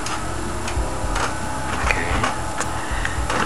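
A new wireless printer works through a page nearby with steady mechanical ticking and clicking, rhythmic feed sounds over a low motor hum, no talking.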